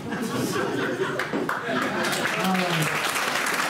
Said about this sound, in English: Round of applause for Noel Keating, Peter Farrell and Paddy Kelly